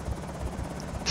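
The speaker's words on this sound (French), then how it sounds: "Est-ce que c'est l'hélico que j'entends ou y'a que moi qui l'entends là?" A helicopter in the zombie survival game Project Zomboid thumps with a faint, steady rotor beat, distant and muffled, over a soft background hiss.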